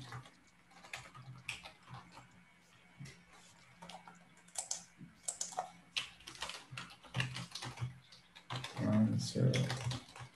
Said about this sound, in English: While Javier is typing